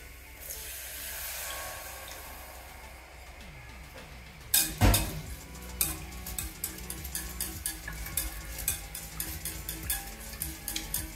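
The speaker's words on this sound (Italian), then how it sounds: "aggiungiamo il latte" Milk poured into toasted flour for a thick béchamel, followed by spoon or whisk stirring with irregular clicks and scraping, starting with a sharp splash partway through and continuing close up.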